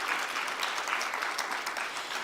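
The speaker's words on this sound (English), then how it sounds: "Can we please give our partners another round of applause?" An audience at a fintech conference claps in a brief, dense burst of applause, steady and moderately loud from start to finish, with no speech over it.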